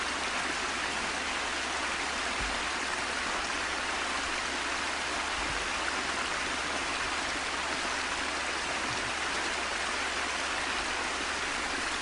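A flowing stream with waterfalls in a British Columbia outdoor setting near Summerhill, a steady broadband rush of water running continuously and fairly loud with no voices.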